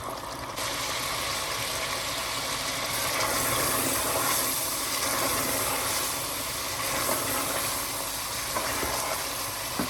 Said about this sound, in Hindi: गोश्त को अच्छी तरह भून लेते हैं।